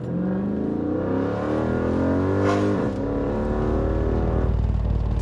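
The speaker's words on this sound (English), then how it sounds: "I cut off more of the exhaust, because it sounds amazing" A Chrysler 300 SRT with a cut exhaust roars and revs up under hard acceleration, a loud, continuous exhaust drone rising in pitch with a brief shift in the middle.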